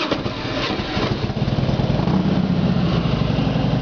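A Harley-Davidson Fat Boy trike with dual exhaust starts and settles into a loud, steady, close-up idle, its low rumbling pulses continuing throughout with no talk.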